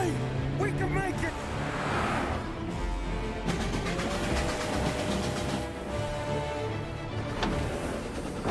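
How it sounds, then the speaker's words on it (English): A train rumbles past in the city streets of the video game Mafia: Definitive Edition, its steady engine drone and rail noise running loud and continuous under a car chase, with voices over it. "He's trying to beat the train!"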